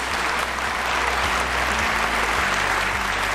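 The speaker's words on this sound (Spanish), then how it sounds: "Este aplauso para todas y todos ustedes de la merienda." Steady applause from an audience at a snack-time gathering on a local radio programme, dense and continuous clapping at close range throughout, with no talk over it.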